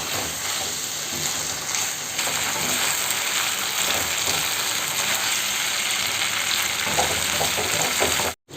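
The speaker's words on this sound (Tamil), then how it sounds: "இப்போ இந்த எண்ணெயில் இன்னும் ஒரு நிமிஷம் வதங்கட்டும்" Ivy gourd pieces frying in coconut oil give off a loud, dense, continuous sizzle with faint stirring, holding steady throughout before cutting off abruptly at the very end.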